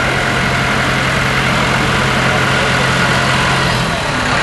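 A McCormick C105 four-wheel-drive tractor idles at a fall fair parade, a steady low diesel rumble holding close and constant under the open-air crowd noise.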